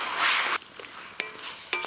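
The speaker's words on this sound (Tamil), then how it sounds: "இப்போ நல்லா ஒரு வதக்கு வதக்கலாம்" Country chicken with tomatoes and salt sautéing in a pan for Pallipalayam chicken gives a loud, dense sizzle and stir for about half a second, then settles into a quieter hiss broken by a few sharp spoon-on-pan clicks.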